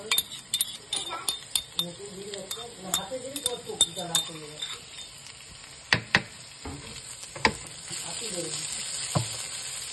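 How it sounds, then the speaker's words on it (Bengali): Frying sizzle and stirring in a hot pan as ginger garlic paste goes in, with clinks of a utensil against the pan, moderately loud and close, with a voice speaking now and then. "জিঞ্জার গার্লিক পেস্ট অ্যাড করে দেবো।"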